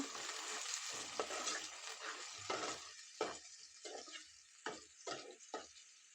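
Onions fry in hot oil in a pan for a raw prawn and okra curry. A dense sizzle settles into quieter crackling, broken by several sharp stirring scrapes close by.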